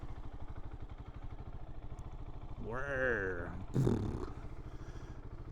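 A BMW R1300GS Adventure motorcycle engine runs at a steady idle with an even low pulsing throb, close by, while a person briefly speaks and vocalises over it near the middle.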